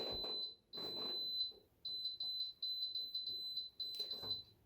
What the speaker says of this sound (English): It's the beeping sound all the time.